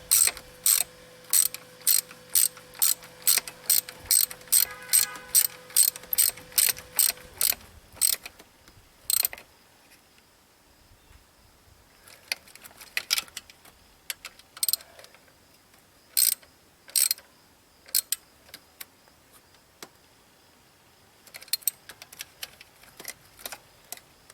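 A ratchet clicks in quick, regular bursts while tightening the aluminum thermostat housing bolts on a 2006 Buick Lacrosse, loud and close, followed by looser, scattered clicks and clanks with no talk.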